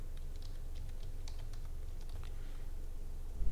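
Keystrokes on a computer keyboard as a word is typed into CSS code, a quick run of soft clicks over low background hum, with no talk.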